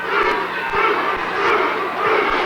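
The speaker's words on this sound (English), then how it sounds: "Crowd taking up the chant, Bruce, Bruce" Boxing arena crowd during the Oliver McCall versus Bruce Seldon fight, a loud, continuous mass of voices swelling in rhythmic waves, consistent with a chant rising and falling roughly every second.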